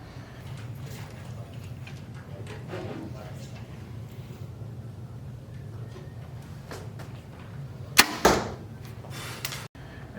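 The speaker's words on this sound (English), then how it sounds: "We're gonna shoot the bow." A Mathews V3X 29 compound bow is drawn and shot, the arrow releasing with a sharp quiet thwack and brief rattle, preceded by low background noise and faint movement.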